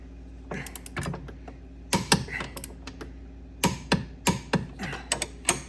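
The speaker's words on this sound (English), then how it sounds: "we're using the big torque wrench" Torque wrench tightening lift kit bolts on a Polaris Ranger 900 XP side-by-side, heard as a series of sharp close clicks in two clusters separated by a short pause, with a steady low hum underneath.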